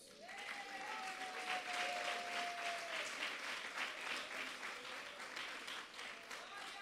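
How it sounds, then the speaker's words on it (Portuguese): A church congregation claps together in sustained, fairly soft applause, the sound steady and diffuse across the room with a brief tonal note drifting through early on. "Aplaude a Jesus."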